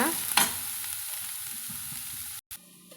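Roasted masala ingredients sautéing in hot oil in a pan for a chow chow curry, a close, steady sizzle with a brief stirring scrape early on, then a short break before fainter frying.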